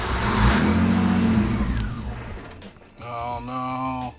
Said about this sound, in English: it's probably taking a few starts because there's no fuel in the fuel line yet